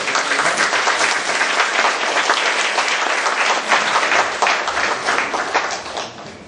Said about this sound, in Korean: 우리 나올 때 박수로 한번.